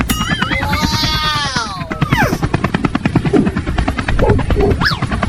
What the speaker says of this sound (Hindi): चिंटुआ, थोड़ा सही से उड़ा हेलीकॉप्टर, मुझे बहुत डर लग रहा है